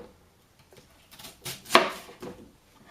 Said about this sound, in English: now I'm going to cut the onion up